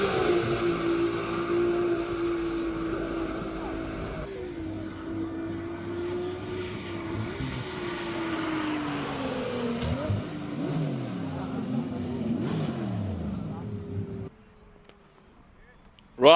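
A classic BMW E30 four-cylinder M3 climbs a hill-climb course in Cape Town, its engine note rising and falling steadily for about fourteen seconds before dropping away, with a commentator talking over it throughout.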